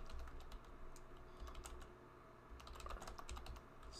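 Close, quiet keystrokes on a computer keyboard while entering data in an Excel spreadsheet, coming in quick bursts with brief pauses between them.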